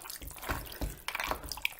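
Water poured into a can on a cooking setup, splashing and trickling in uneven bursts with a few bright drips, close and moderately loud, with no voices.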